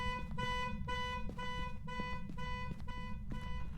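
A video game car alarm in Phasmophobia honks in a steady repeating pulse, about two blasts per second, tinny and distant with constant low rumble underneath.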